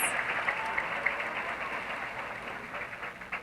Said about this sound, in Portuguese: can we get a quick round of applause for our volunteers giving the ducks out?